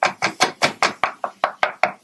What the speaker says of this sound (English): Just want to get a nice little chop on things here.